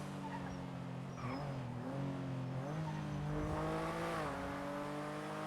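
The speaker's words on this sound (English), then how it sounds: "I heard a fast car then, and I'm wondering if that was it." In the video game GTA V, a fast car engine drones and revs with rising and falling pitch shifts at moderate distance, steady throughout without talk.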